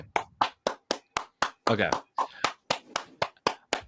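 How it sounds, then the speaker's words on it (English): A person clapping hands in a steady rhythm, a dozen or so sharp, close claps, with a brief spoken word partway through. "Corey stops clapping his hands"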